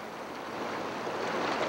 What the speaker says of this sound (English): Here we see the boat ascending a minor rapid.